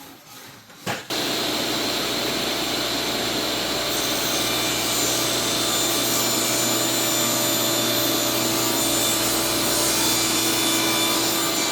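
A power saw cuts wooden shelf boards to length for a corner plant shelf, a loud steady whirring rasp running continuously for over ten seconds after a brief quiet start, with no speech.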